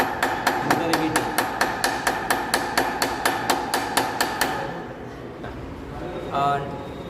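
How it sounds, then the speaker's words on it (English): Ball-peen hammer riveting sheet metal for a tray in a workshop practical, a rapid even series of about fifteen sharp metallic strikes, loud and close, then stopping as a voice briefly speaks over low room noise. "do the riveting operation with help of hammer, ball pin hammer."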